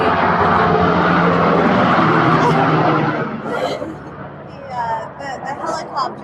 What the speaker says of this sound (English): the helicopter, the helicopter on its way to who knows